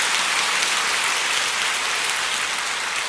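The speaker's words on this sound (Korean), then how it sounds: "우리 하나님께 감사의 박수 한번 올려드리십시다" A church congregation at an evening prayer meeting gives steady, dense applause in thanks, a loud wash of many hands clapping with no break.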